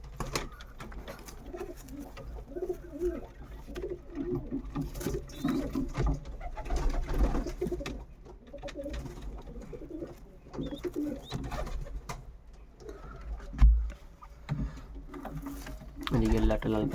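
Kaldom pigeons keep up a steady low cooing inside a pigeon loft beside a red bird nesting on its eggs, the murmuring calls continuous and close, broken by a couple of sharp knocks.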